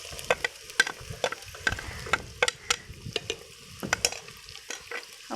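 Ginger, garlic and dried coriander added to browned onions in a pan for a simple village-style meat curry, stirred with repeated sharp scraping clicks over a low steady sizzle, close and alone without talk.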